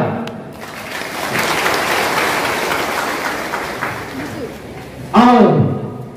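Audience applause rises at a speech event held by an Adivasi peace committee in Tinsukia, Assam, as a sustained wash of clapping that holds for several seconds before a voice resumes over the fading claps.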